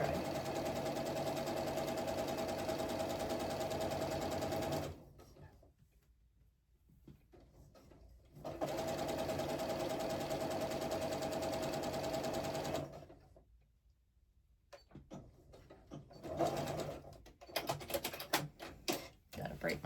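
A domestic sewing machine stitches quilt 9-patches for a 1776 quilt, running in two long steady whirring stretches with pauses between, close by, with a few clicks and handling sounds after.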